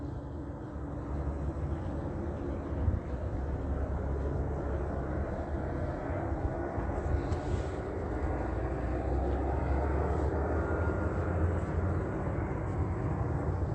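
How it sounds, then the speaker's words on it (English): A helicopter circles overhead at night, a continuous low rumbling drone that holds steady throughout at a moderate distance. "Just flying in circles over me by helicopter."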